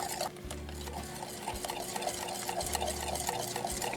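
Whisk or spoon stirring hot chocolate pudding mixture into eggs in a kitchen bowl, a steady, close scraping swirl with light clinks, continuous and unbroken throughout with no talking.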